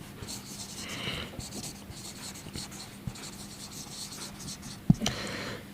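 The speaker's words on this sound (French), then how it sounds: "je l'écris sur mon ardoise en pensant à rajouter la majuscule et le point" Chalk or pen scratches across a school slate as a sentence is written out, soft continuous strokes close by with a sharper tap near the end, no talking.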